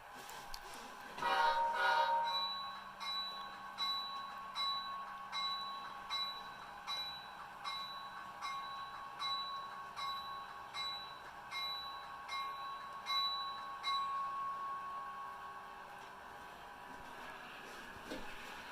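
A model train runs on a home railfan layout, its wheels clicking in an even rhythm over the track joints above a faint steady hum. A brief squeal sounds near the start, and the whole passage stays quiet and close.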